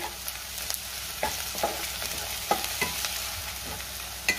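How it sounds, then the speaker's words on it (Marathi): Ginger garlic paste sizzles in a hot pan for a prawn rice dish while a spoon stirs it, giving soft steady frying with light scraping clicks at irregular intervals. "आता आपल्याला त्यामध्ये आलं लसणाची पेस्ट घालायची आहे, पुन्हा आपण 1 मिनिटभर परतून घेऊया।"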